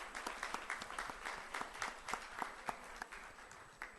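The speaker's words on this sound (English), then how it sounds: "May I request all present to put your hand together for a round loud of applause for our" An audience at an annual foundation day conference applauds the panelists, a steady round of clapping from a crowd, moderately distant and fairly quiet, with no talking over it.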